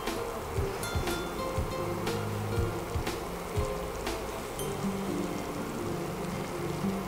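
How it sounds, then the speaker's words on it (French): Sugar syrup boiling in a pan for buttercream, a steady soft bubbling hiss with faint pops and crackles throughout, close and even in level, no talk over it. "Donc là mon sucre commence à bouillir"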